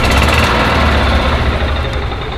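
A gas-powered 2000 Club Car DS golf cart engine runs steadily and loudly up close, a continuous rough mechanical drone with no voices.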